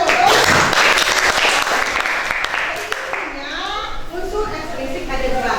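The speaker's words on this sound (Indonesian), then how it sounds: "Nah, tepuk tangan untuk" Applause fills a classroom during a teacher training session, a dense steady patter of many hands clapping throughout, with voices talking and calling out over it toward the end.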